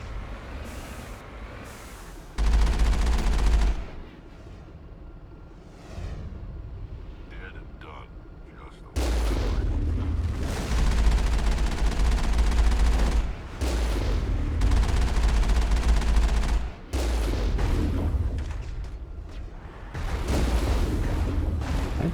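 Gunfire from a video game, heavy low booming bursts that come in sustained stretches with brief gaps, loud and close, with a player talking over parts of it.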